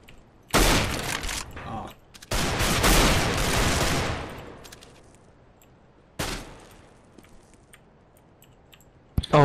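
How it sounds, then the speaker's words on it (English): Automatic weapon fire in Counter-Strike: Global Offensive, a Galil among the guns, in several loud sustained bursts with pauses between, the last cut short at the very end, fading into quiet game ambience. "don't even bother trying to fire an automatic weapon while moving"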